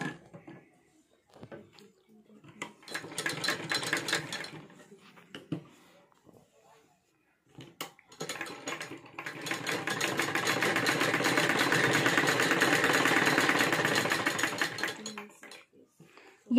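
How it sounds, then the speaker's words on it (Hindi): A sewing machine stitches a collar neck onto buckram in short whirring runs, first a brief burst and then a longer steady stretch, close by, with pauses between and some handling noise. "यहां बुकरम के ऊपर हम सिलाई लगा लेंगे ऐसे"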